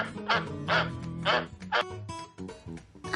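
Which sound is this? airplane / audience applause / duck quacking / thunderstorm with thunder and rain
duck quacking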